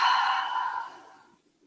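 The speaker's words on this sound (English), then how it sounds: "Inhale through the nose. Open mouth, exhale." A single soft, breathy exhale through an open mouth during yoga breathing, close and quiet, fading out over about a second.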